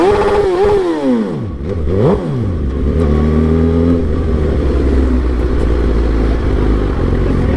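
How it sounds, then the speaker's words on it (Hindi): A motorcycle rides through foggy conditions, its engine rising and falling in quick revs with rattling clatter, then settling into a steady, close, rumbling drone. "अभी जो मेरी बाइक है वो यासर चला रहा है"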